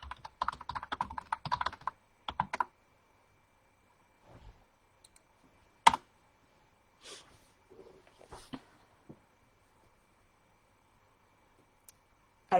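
Keys on a computer keyboard clatter in a quick burst of typing, then give way to sparse, isolated taps and clicks separated by long quiet gaps in a silent room.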